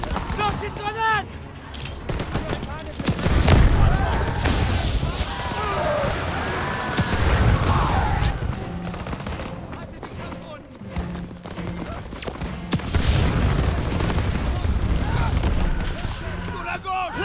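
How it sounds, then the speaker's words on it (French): Call of Duty WWII battle: a grenade blast and bursts of gunfire rumble and crack across the scene, with shouted voices over the combat noise throughout. "Lance une grenade!"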